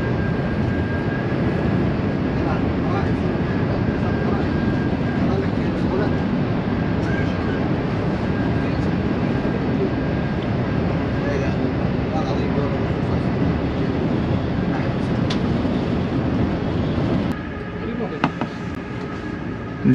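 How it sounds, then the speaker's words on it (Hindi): Inside a Haramain high-speed train cruising at 300 km/h between Makkah and Madinah, a loud, steady broadband roar and rumble fills the cabin for the whole stretch, easing slightly near the end. "इस वक्त ट्रेन 300 किलोमीटर फी घंटे की रफ़्तार से क्रूज़ कर रही है"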